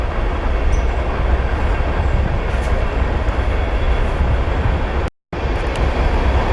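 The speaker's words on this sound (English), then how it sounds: "And you can probably hear the train off the distance up there. The modern day train is coming through right now." A modern train rumbles past in the distance as a steady broadband roar with faint wheel clatter, continuous throughout apart from a brief dropout near the end.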